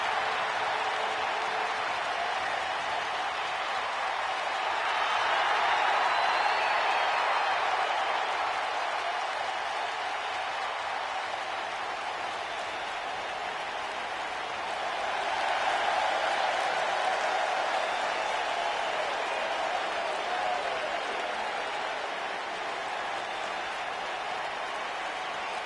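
A wrestling show crowd applauds and cheers, a dense, steady wash of clapping that swells twice, heard without commentary.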